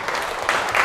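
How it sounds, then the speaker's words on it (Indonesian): Students applaud in a classroom, a short burst of dense clapping that stays steady for under a second. "tepuk tangan untuk kalian"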